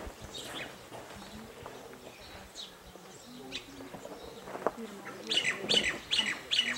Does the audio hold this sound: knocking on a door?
no